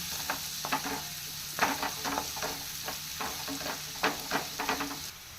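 Onions and masala fry in a pan for a soya chunks curry, giving a continuous low sizzle with repeated scraping strokes of a spoon stirring throughout.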